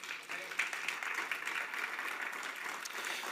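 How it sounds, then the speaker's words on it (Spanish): A church congregation claps together during a Spanish-language sermon, with a fairly faint, even wash of applause that continues for a few seconds without a break. "¿Por qué no le da un aplauso al Señor esta mañana?"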